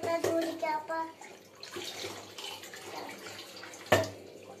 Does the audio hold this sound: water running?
yes